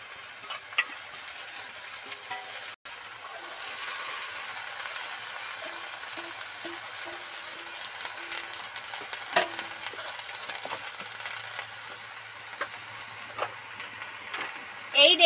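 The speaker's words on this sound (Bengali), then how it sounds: "জল তো দিয়েই দিলাম, টকবক টকবক করে ফুটছে।" Water spinach curry cooking in a pan with water added, a soft continuous bubbling simmer with occasional stirring scrapes and clinks, fairly quiet and steady throughout.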